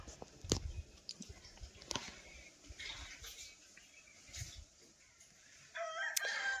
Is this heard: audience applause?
no